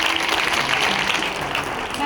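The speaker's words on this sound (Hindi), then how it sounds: "जोरदार तालियां प्लीज।" Applause from an audience welcoming a guest at an International Day of Persons with Disabilities celebration, a steady, moderately loud wash of clapping with faint voices mixed in.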